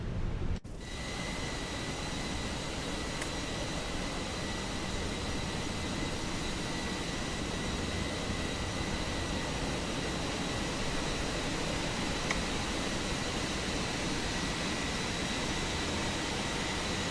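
An Airbus A319 jet engine drones as a steady, even whine and rush of airflow in a flight simulator, holding a constant level as it winds on without voices.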